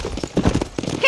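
Horse hooves clip-clop at a steady pace in the Red Dead Redemption game, with a brief whinny near the end and character dialogue spoken over the hoofbeats.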